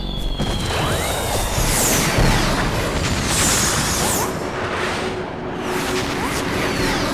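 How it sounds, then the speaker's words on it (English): Explosions in the video game Metal Gear Solid 2 form a dense, continuous barrage of booms, crashes and whooshing blasts, loud and layered throughout with no pauses. "Pretty fireworks."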